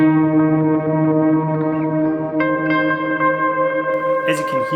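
Microcosm pedal producing sustained shimmering notes fed through a delay effect, layered tones ringing steadily with echoing repeats and new bright notes entering toward the end, with no voices.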